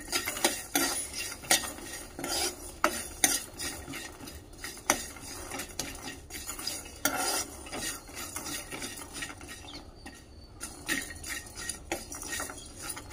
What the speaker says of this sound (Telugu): కొన్ని ధనియాలు వేసుకుంటున్నా. మంచిగా ఫ్రై చేసుకోవాలి ఇవి.